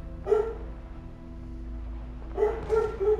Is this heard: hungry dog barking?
yes